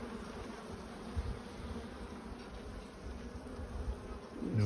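Honeybees buzzing in a hive colony, a steady dense drone close by, continuous and even throughout with no talking.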